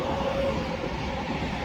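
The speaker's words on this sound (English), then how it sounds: "there goes the train." A train passes outdoors in Colorado, a steady broad rumble with a faint sustained tone, continuous and fairly loud throughout.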